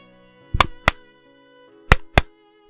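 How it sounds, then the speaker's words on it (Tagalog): Knocking on a door: two close, crisp raps, a pause of about a second, then two more, over a faint sustained musical background. "Dahan-dahan siyang kumatok."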